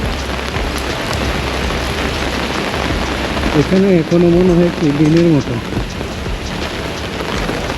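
A dense downpour hisses steadily and loudly on a street at night in Langkawi; partway through, a voice speaks briefly over the rain.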